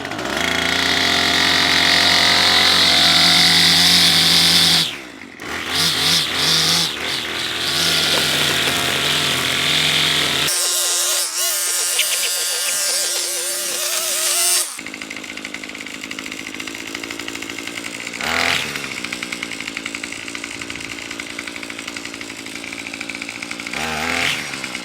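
A loud petrol power tool, chainsaw-like, edges grass around a fig tree, its engine droning steadily near the microphone and changing pitch as it bites into the turf and then eases back.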